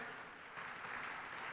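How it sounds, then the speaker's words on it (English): A conference audience applauds, a steady wash of clapping heard from a distance and fairly faint throughout. "can I get a big round of applause for Excellency Fahd Al-Jalajil?"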